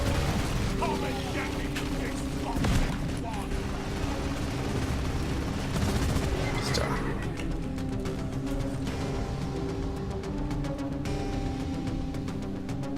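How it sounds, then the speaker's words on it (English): A minigun fires in a sustained, rapid, grinding burst in the video game Deep Rock Galactic, loud and close, with a steady mechanical whine and dense rattling that continues unbroken for the whole stretch, easing slightly toward the end. "Minigun isn't very accurate, but it's good for a swarm"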